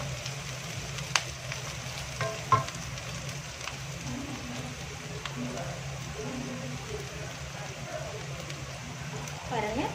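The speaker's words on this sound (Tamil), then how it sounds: "கறிவேப்பிலை அதையும் நான் இதில் போட்டுக்கிறேன்." Curry leaves dropped into hot oil for a lady finger okra dish, a soft steady sizzle and crackle with a few sharp pops, under quiet background talk.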